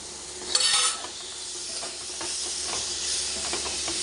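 Masala sizzles in a pan as chopped tomato and coriander go in, with a clear stir and clatter near the start, then a steady close hiss and crackle of frying.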